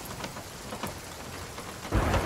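Heavy storm rain in Sea of Thieves, a steady hiss of rain on surfaces with scattered drop impacts, then a louder surge of rain and rumble near the end, with no voices.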